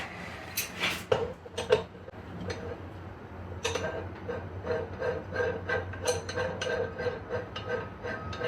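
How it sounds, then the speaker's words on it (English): A slide hammer knocks out a fork part during a front-end swap on a Suzuki Bandit GSF600 motorcycle, giving a handful of quiet, sharp metallic knocks at uneven intervals over faint workshop background. "Then you just have a slide hammer and you knock it out."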